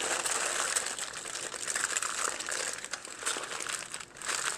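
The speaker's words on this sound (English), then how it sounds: "Now you want to get the foil right mushed up against the meat, because that keeps the broth against the meat" Aluminium foil folded and pressed tightly around meat with broth inside, a continuous close crinkling and crumpling that goes on for several seconds.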